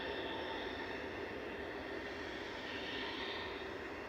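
A TAP Express airliner, operated by Portugalia, takes off at Manchester Airport with a steady, broad jet roar heard from a distance.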